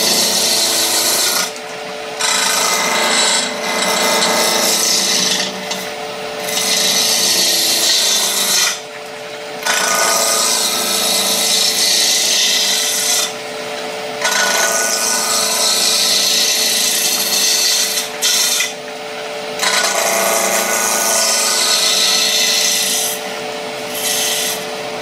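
A lathe tool cuts into spinning wood, a loud, continuous close-up scraping whir broken by a few brief dips as the cut eases and bites again.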